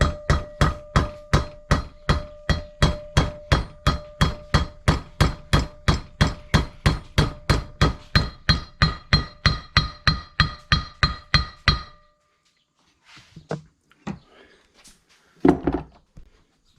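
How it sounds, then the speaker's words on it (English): A hammer drives a new seal into a boat trailer wheel hub. There are about thirty sharp, evenly spaced metallic taps close by, with a ringing tone in the middle, then quieter shuffling and handling after the hammering stops. "I usually just use a hammer."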